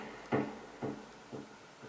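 Homemade kick drum built from a household object and processed with effects, four soft, dull thumps spaced about half a second apart, quiet and close with a short muffled decay.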